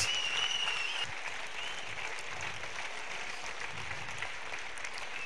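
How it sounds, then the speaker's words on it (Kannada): A church congregation at a Kannada worship and honor service claps loudly in a continuous, dense round of applause that holds steady throughout and sounds slightly distant in the hall. "ಜೋರಾಗಿ ಚಪ್ಪಾಳೆ ಹೊಡೆದು"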